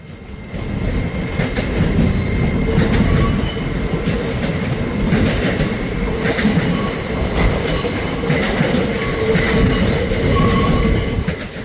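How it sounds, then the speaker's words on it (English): A train rumbles steadily through Newcastle station on a service bound for London King's Cross, loud and close for the whole stretch, with rolling wheel noise, rhythmic clatter over the rail joints and a faint high wheel squeal. "there goes Eleanor to London King's Cross"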